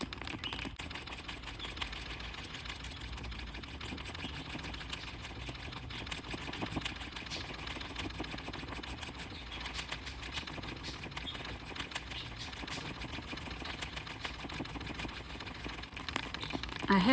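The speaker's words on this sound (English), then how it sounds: "Seems like the sound of my treadle brings out the chipper in my little parakeet" A treadle sewing machine stitching embroidery runs in a faint, steady rapid clatter that carries on throughout, with no voices over it.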